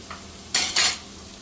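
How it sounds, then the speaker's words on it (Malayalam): Masala roasted in a pan for a clam curry gets two quick, loud spatula scrapes and stirs over a low sizzle, close up and without voices. "ഒന്ന് മൂത്തോട്ടെ മസാല ഒന്ന് മൂത്ത് വരട്ടെ"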